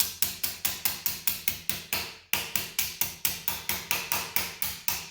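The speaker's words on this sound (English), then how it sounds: "now what I want to do is take my small ball peen hammer" A small hammer taps metal in a steady, even rhythm, about four sharp ringing strikes per second, close and clear, with one brief pause partway through.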